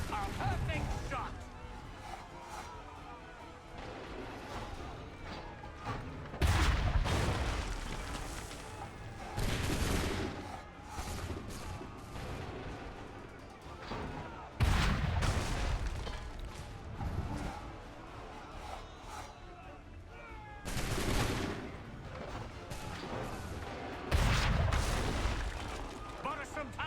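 Volleys of musket fire and cannon booms erupt repeatedly in a battle scene from Assassin's Creed 3, loud bursts every few seconds over a constant din of combat, with voices speaking throughout.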